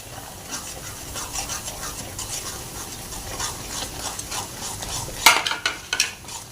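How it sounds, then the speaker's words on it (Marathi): Roasted semolina being stirred into boiling water in a pot for upma, soft scraping and swishing strokes with a few sharper spoon clinks near the end, no voices. "आता आपण याच्यामध्ये रवा घालून घेऊया।"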